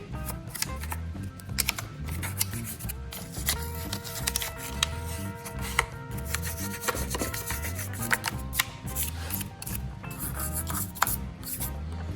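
A small toothbrush scrubs grime off a dirty saw, giving close, continuous bristly rubbing and scratching strokes with an uneven rhythm, with no talking.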